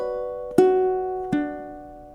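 Ukulele notes picked in a three-to-one pattern from a song's chord shape, two distinct plucks ringing out and decaying clearly in a quiet room.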